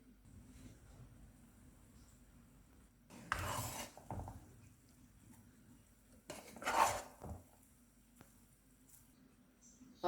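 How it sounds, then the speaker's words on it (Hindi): Chicken tikka pulao being dished out from a pot, quiet room with two bursts of scraping and clattering as a metal spoon works the rice and knocks the pot, a few faint clinks between. "अब हम इसको डिश आउट कर लेते हैं।"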